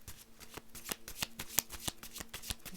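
Tarot cards are shuffled in a rapid run of crisp riffling slaps and flutters, close and fairly quiet, with no talking.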